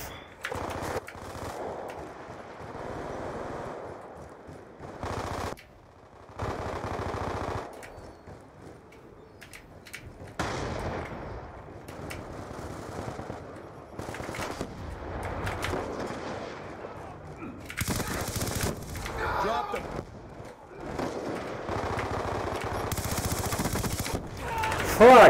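Gunfire from the video game Call of Duty Black Ops 2, with bursts of automatic shots and dense firing that come and go over a steady game-sound bed, plus occasional voices and mixed effects.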